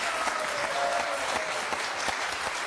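Audience applause for a contestant on a French-language quiz show, a steady, moderately distant wash of many hands clapping at an even level throughout.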